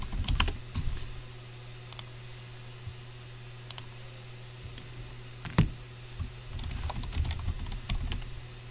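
Keys tapped on a computer keyboard in short irregular bursts, fairly close and moderately loud over a steady low hum, with a busier flurry near the end.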